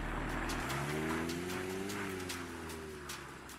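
A car pulls away with a rising, then falling engine drone that fades gradually into the distance as a steady motor sound effect.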